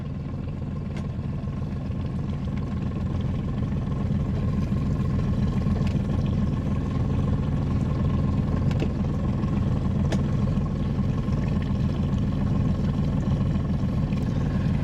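A motorboat with triple Yamaha 300 outboard engines gives off a steady, loud, low engine drone in a harbor that holds evenly throughout with no talking.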